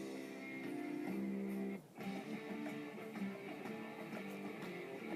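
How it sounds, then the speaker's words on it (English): A rock song plays steadily from a device through iTunes, with sustained guitars and vocals and a brief dip in level partway through, no talking over it. "You can hear the music playing in the background."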